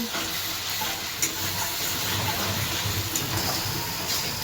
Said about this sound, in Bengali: আদা রসুন বাটা দিয়ে দিয়েছি তো এর মধ্যে টমেটো দিয়েছি এখন মশলাটা ভালো করে কষাই